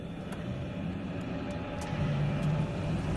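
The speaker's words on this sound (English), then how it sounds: "I'm in the helicopter." A steady, loud engine drone from a helicopter in the first-person shooter Battlefield 3, a constant rumble with a few faint clicks on top and no talking.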